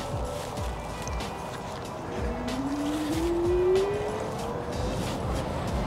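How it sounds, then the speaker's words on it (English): A SISIGAD electric scooter accelerating to its top Eco-mode speed, a steady motor whine rising in pitch over the noise of wheels and wind during a ride, with no talking. "I'll start off with Eco, and then I'll bring it to the max speed for the Eco, and then hit the brakes."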